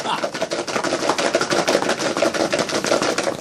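Garlic cloves rattling hard inside a closed container, shaken vigorously for peeling, making a fast continuous clatter of rapid dense impacts, loud and close, with no pauses.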